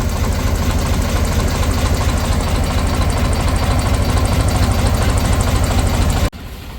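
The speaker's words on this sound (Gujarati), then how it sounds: "ટ્રેક્ટરનો અવાજ સાંભળીને નંદી મહારાજ ને ગાય માતા આવવા મળ્યા" A tractor engine idles loudly and steadily up close with a rhythmic low chugging, then cuts to a quieter hum at the very end.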